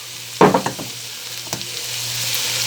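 Carrots drop into a hot pan of onions for beef pot pie, with a sharp clatter on landing, a few knocks, then a continuous sizzle.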